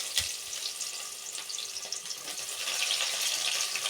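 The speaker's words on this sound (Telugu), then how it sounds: "తర్వాత ఉల్లిపాయలు వేశారు," Sliced onions hit hot oil with cumin in a pan and fry with a steady, close sizzle and crackle that holds for the whole stretch and grows slightly louder toward the end, with no talking.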